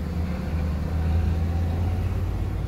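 A 2008 Honda Accord's engine running just after starting, a steady low rumbling idle with a constant hum, close and even with no talk over it.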